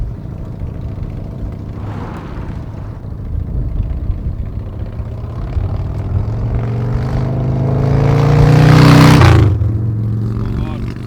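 A custom Harley-Davidson motorcycle makes a flyby: a steady engine rumble swells to a loud, close peak near the end, then drops in pitch as it passes and fades away.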